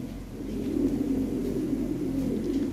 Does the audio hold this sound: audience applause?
no